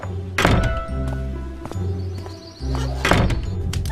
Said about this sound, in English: Alice decided to open the door herself.